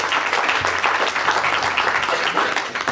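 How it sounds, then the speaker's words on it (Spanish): An audience at a talk applauds a guest speaker, a dense, steady burst of many hands clapping close by and fairly loud, with faint voices mixed in. "Entonces démosles un aplauso a Verónica Aguirre para que pueda iniciar."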